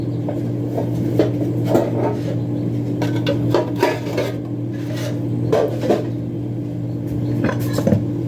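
Metal pan pulled out and handled in a home kitchen, scattered clanks, knocks and scrapes over a steady low hum, fairly close.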